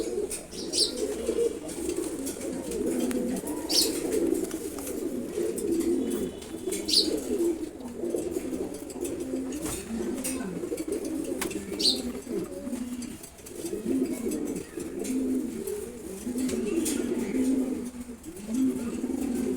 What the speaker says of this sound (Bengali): নর কবুতরটাকে দেখেন একটু